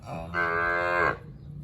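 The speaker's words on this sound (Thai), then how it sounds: "ก็คือวัวที่หลุดมาครับหลงทางมาแถวๆนี้แหละครับ" A single long, loud moo from a stray cow on a Thai cattle farm, a steady harmonic bellow of about a second rising then cutting off, with quiet farm ambience before and after.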